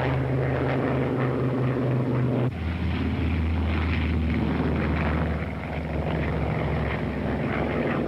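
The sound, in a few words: P-51 Mustang fighter planes taking off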